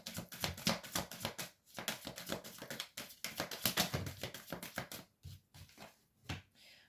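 Tarot cards being shuffled by hand for a reading, a close, quiet run of rapid riffling and tapping bursts with short pauses between.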